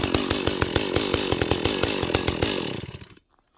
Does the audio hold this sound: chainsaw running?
yes